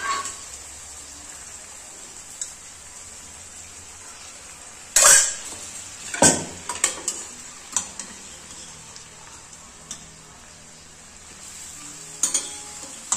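Mutton pieces for a Khandeshi garlic mutton curry stirred in a pot over low heat, a steady faint sizzle punctuated by several sharp spoon-on-metal scrapes and knocks; no talking.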